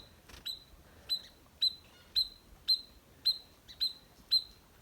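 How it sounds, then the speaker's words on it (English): A small bird calls in the Canadian wilderness near Temagami, giving about eight sharp, bright chirps at a steady pace. The calls are close and clear over quiet outdoor background. "Is he calling another bird to come and attack me?"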